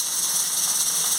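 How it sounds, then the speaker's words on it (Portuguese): A pressure cooker of white corn canjica hisses steam once it reaches pressure, a loud, constant high-pitched jet that holds steady throughout. "a panela já pegou a pressão"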